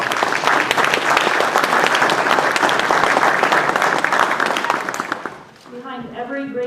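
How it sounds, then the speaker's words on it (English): Loud, sustained audience applause fills a Veterans Day ceremony hall in Belleville, Illinois, steady for several seconds before fading out, followed by a speaking voice. "So please stand up, Rita, for a round of applause for all your support."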